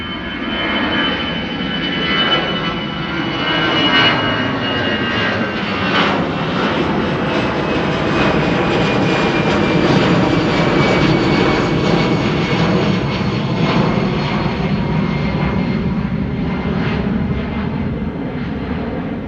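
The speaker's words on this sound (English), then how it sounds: "Another EasyJet coming this way. EasyJet to Milan," EasyJet Airbus A319 at Amsterdam Schiphol, a continuous loud jet roar with a thin high whine sliding across it, holding steady and full throughout.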